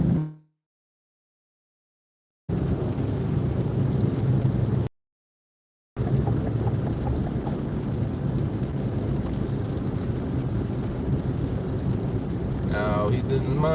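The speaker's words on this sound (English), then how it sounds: "It's a little rainy, but it ain't that bad." Rain during a rez running outing, a steady broadband hiss that cuts out twice to silence before resuming, with a low rumble underneath and no clear speech.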